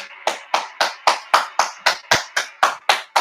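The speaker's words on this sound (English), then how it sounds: "let me hear the applause, man" One person clapping hands in an even, steady rhythm, about a dozen sharp close claps spaced roughly a quarter second apart, with nothing else heard.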